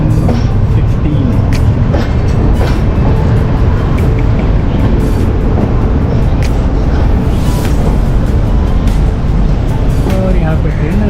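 Passenger train pulling out of New Delhi station from platform 16 on the Sampoorna Kranti Express 12394, a steady continuous low rumble of moving carriages with rattling and clatter throughout, under a constant busy background.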